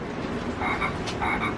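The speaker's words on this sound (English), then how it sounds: "Oh, that's cool, that frog." A frog croaks in a few raspy bursts at an outdoor spot at Huntington Beach State Park, close by and steady over a constant background hum.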